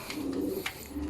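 Young MacArthur line racing pigeons coo softly in a loft, a short low burst of throaty cooing with a few faint higher chirps, close and quiet.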